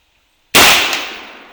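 An 1861 rifle musket fires outdoors: after a moment of silence comes a single loud, sharp crack that tails off into a fading echo over about a second.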